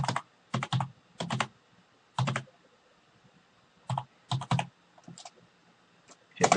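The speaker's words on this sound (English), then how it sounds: "Now type address and then the IP address you want." Bursts of typing on a computer keyboard, quick clusters of key clicks separated by short pauses, close and clear with no talking.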